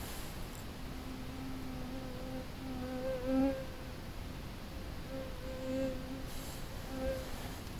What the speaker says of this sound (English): Mosquitoes are insane. They drive me nuts.